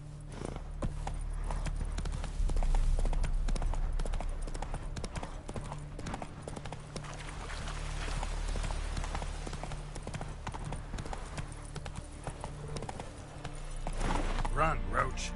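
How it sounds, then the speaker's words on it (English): In The Witcher, played on PS5, a horse gallops with a fast, rhythmic clip-clop of hooves that continues throughout, close and moderately loud over game ambience, with some voice sounds mixed in. "Run, Roach"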